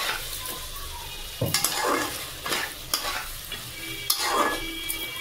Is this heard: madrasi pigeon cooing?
no